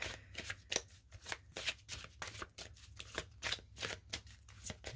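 Animal spirit oracle cards are shuffled in a steady, repeated rhythm of crisp riffling bursts, close and fairly quiet, with no talk.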